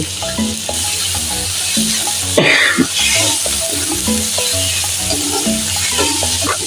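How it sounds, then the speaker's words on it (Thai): Dolly fish stir-fried in a pan with sautéed aromatics, a loud continuous sizzle with clattering stirs and a sharp splash of fresh sizzling partway through, close by, with no talking. "ใส่ดอลลี่ผัดไปเลย"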